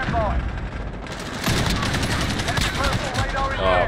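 Gunfire in Call of Duty: Modern Warfare Ground War mode, with dense, loud rapid shots and bursts over a constant battle din, with a voice briefly heard at the start and end.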